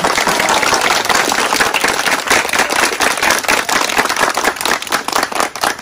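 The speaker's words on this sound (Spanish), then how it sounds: "un fuerte aplauso por ellos que han venido" Loud, sustained applause from a gathered crowd in the Amazon welcoming visiting indigenous families, dense overlapping claps held steady from start to finish with no voices over it.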